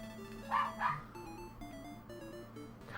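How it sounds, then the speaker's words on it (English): A dog barks twice in quick succession, moderately loud over a steady background of chiptune game music from Dragon Warrior on the NES, with no talking. "God, do you hear that dog?"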